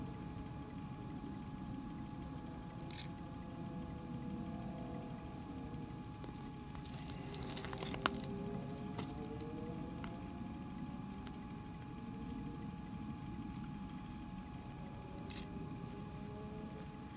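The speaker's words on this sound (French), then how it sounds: "C'est une moto." A motorcycle passes through open countryside, faint and distant, its engine tone rising and falling over a few seconds against a quiet, steady hiss of background noise.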